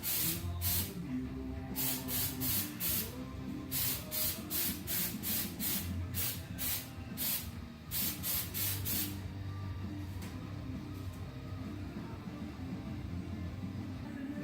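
Spray adhesive bursts in short rhythmic hisses, a rapid series of close spritzes for insulating the doors of a VW Bus, then stops, leaving a quiet low hum.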